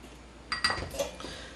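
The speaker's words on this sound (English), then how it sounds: "Just kind of whisk that together and we'll set it aside for later." Garlic and Parmesan cheese are whisked together in a bowl, producing a few faint metallic clinks and scrapes of utensil against dish in quick succession, quiet and close.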